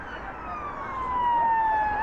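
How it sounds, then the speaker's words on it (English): A police siren wails steadily in a slow rising and falling sweep in Blackpool, growing slightly louder as it approaches, with traffic rumbling underneath. "Welcome to another video with the police sirens"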